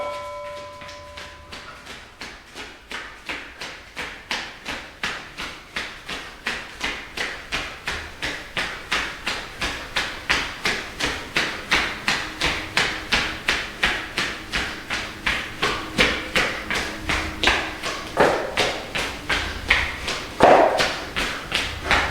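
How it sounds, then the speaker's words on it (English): Steady rhythmic thuds of feet running in place during an at-home resistance band workout, a fast even beat continuing throughout, close and fairly loud with no talk over it. "we're gonna begin with our running in place"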